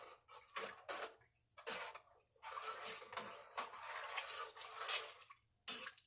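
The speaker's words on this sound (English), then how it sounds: "let's give that a stir" Elderberry syrup with cloves and cinnamon is stirred in a pot: faint, intermittent scraping and clinking of a spoon against the pot in short bursts, close but quiet.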